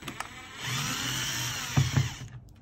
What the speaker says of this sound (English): So we'll start off with taking the screws out of it.